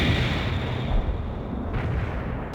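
A heavy artillery barrage in the strategy game World in Conflict: Soviet Assault, a loud, continuous roar of overlapping explosions and deep rumbling booms, dense throughout with a slight dip near the end.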